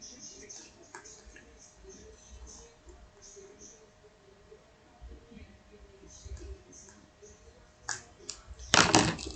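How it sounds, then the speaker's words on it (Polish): A few sharp snipping cuts near the end, loud and close, as scissors cut through the perforation of a surprise egg wrapper, after quiet clicking and faint rustling. "Nacinam nożyczki."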